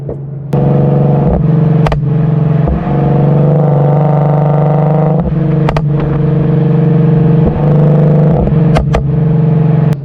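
An Infiniti Q50 with a burble tune and catalytic converters revving while driving, with a loud, close engine drone rising and falling in pitch, broken by several sharp pops and crackles between throttle changes.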